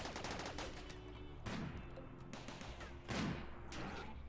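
Side turrets firing in the video game Tundrafall, a run of rapid gunfire bursts with two heavier thumping volleys standing out over a steady mechanical hum.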